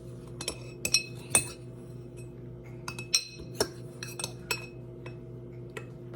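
Ground coffee scooped into the small reusable filter of a Keurig K-Supreme coffee maker, heard as a few sharp, close clinks and taps spread out over a quiet background hum.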